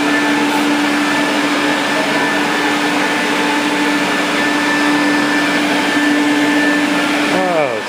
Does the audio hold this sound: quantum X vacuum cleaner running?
yes